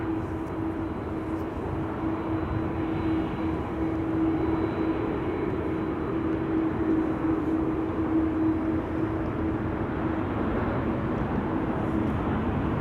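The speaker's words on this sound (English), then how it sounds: "There's a bizjet on final" A business jet on final approach to Amsterdam Schiphol's Polderbaan runway, heard as a steady, continuous engine roar with a faint whine running throughout, distant and unbroken, with no voices.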